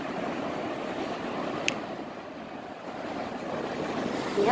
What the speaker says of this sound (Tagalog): Ang laki ng alon, guys, oh.